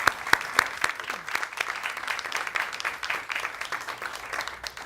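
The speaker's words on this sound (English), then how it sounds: "let's give them a round of applause" A room of people gives the Voyager 1 mission team a round of applause, with sharp individual claps up front over a dense, steady patter of clapping that continues throughout.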